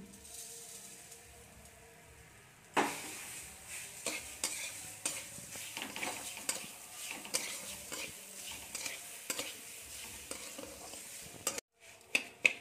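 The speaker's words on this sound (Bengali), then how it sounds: "এটা ভালো করে আমরা নেড়ে আমরা চিনিটাকে গলিয়ে নেব" Grated coconut and sugar are stirred in a wok over a gas flame, with a steady sizzle and rapid scraping strokes that start after a short quiet stretch and run continuously up close, with no talk.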